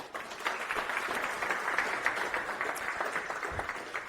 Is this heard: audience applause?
yes